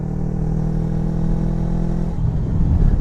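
A Kawasaki Versys X Tourer motorcycle engine pulling uphill in sixth gear at about 50 km/h, a close, steady mid-pitched hum with a low drone that roughens near the end as the load increases.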